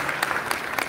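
A brief burst of audience clapping at a film awards ceremony, a quick crackling patter of many hands at a steady volume.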